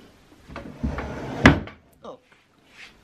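A wooden dresser drawer holding a comforter is pulled open and pushed shut, with a sharp knock near the middle and softer scrapes and thumps around it, heard close up in a quiet room.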